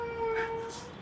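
A person imitates a cat's meow with a short, tonal, rising-and-falling vocal mew, close and clear, lasting about a second.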